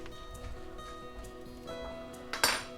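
Drained salmon is broken up in a bowl, giving soft, faint scrapes and small clinks of a utensil against the dish, ending in a sharper clink near the finish.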